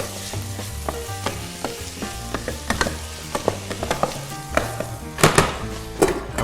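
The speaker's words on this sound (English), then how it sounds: "We'll just give it a lovely quick stir, just to make sure nothing's burning on the bottom" A green egg shakshuka simmers in a pan while a spoon stirs it in quick strokes, giving scraping taps and soft bubbling, with a few louder clacks near the end.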